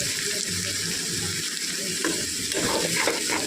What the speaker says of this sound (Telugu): చూడండి, ఇలా బాగా కలుపుకోవాలి.